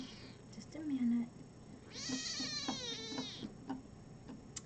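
A pet cat named as having a big mouth lets out a loud, drawn-out meow in the middle of the clip, close by. A few shorter, fainter vocal sounds come before and after it, and a person can be heard speaking.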